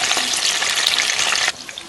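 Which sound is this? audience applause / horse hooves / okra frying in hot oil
okra frying in hot oil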